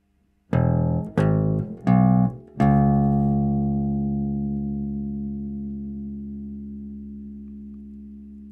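Bass guitar plays four single notes slowly, one after another, the last ringing out and fading over several seconds. Clean, close, and alone with no talk.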